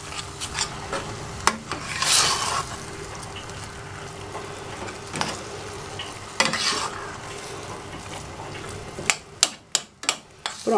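Ground beef filling with a pinch of turmeric being stirred in a pan, a steady soft scraping and sizzle with a few louder clanks of the spoon near the end.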